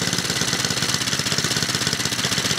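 Engine with a JB Weld-repaired scored cylinder idling roughly, a loud close rapid knocking chug with an uneven pulsing beat running steadily throughout.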